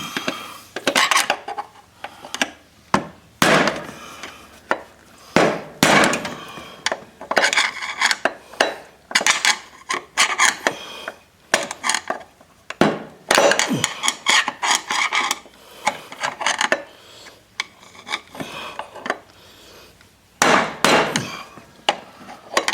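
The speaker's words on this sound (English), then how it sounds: "Get a screwdriver and a hammer and see if I can't knock that outer race out the bottom." Sharp metallic bangs and scraping clanks ring out in irregular bursts with brief pauses, as a hammer and screwdriver knock a bearing outer race out of a Cub Cadet LTX 1050 mower spindle up close.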